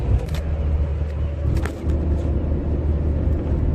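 An interior cabin rumble rises from a Toyota AE86 on a test drive, with a steady low engine drone and a few faint clicks and rattles.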